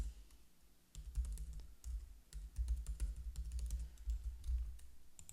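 Keys clack on a computer keyboard in quick bursts as a name and email are entered on a Facebook sign-up page, fairly soft and close, with brief pauses between runs.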